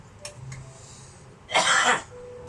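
A single harsh cough burst rings out, loud and close, after a quiet stretch with a faint earlier throat sound.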